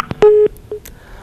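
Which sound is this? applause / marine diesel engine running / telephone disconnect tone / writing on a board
telephone disconnect tone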